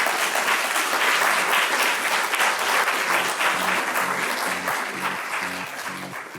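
A live podcast audience at a university event applauds the panellists, a sustained crowd of clapping hands that slowly tapers in loudness, with a low rhythmic pulse emerging beneath it toward the end.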